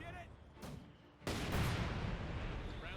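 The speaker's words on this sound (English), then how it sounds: "S-mine's being set off by the mortars." Mortar fire setting off S-mines in Company of Heroes 2, a muffled thump followed by a sharp explosive burst and a dense rumbling crackle, loud and close in the game mix.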